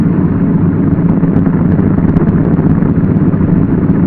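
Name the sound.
Douglas DC-3 aircraft engine idling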